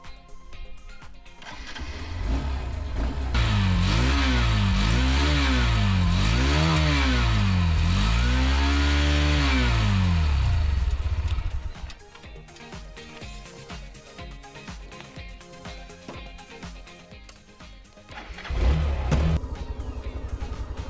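A Hero Xtreme 160R motorcycle exhaust revs hard while standing, several rising and falling throttle blips in a long loud burst, then settling to idle before one more short rev near the end.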